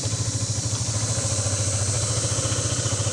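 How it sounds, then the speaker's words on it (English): A 2022 Honda 150cc scooter idles close by, its exhaust putting out a steady, even low-pitched putter that pulses rhythmically the whole time, with light mechanical clatter on top and no talking. "A little bit different exhaust note, but still 150 cc's of fury."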